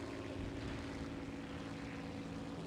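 Propeller airplane engine in the War Thunder video game, a steady droning hum with layered low harmonics holding constant throughout, loud and continuous with no talk.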